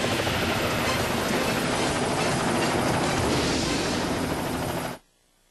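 A Bell Jet Ranger helicopter, flown by a stunt pilot trying to sharpen a number 2 pencil for a record, gives a loud, steady rotor and turbine roar that cuts off abruptly near the end.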